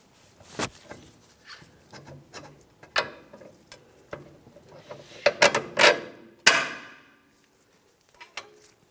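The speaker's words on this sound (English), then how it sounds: "I'm going to slowly start prying down" A pry bar levering against the lower control arm of a 2002-2005 Ford Explorer, giving sharp metallic knocks, clanks and creaks in irregular bursts, close and loud, followed by near silence with a few faint taps.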